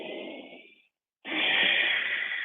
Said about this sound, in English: So you're gonna hear a lot of me breathing.